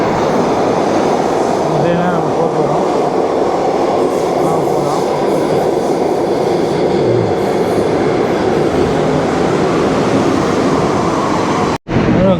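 A New York City subway train rumbles and clatters loudly through the Wall Street station for several seconds, a steady roar with faint voices murmuring underneath.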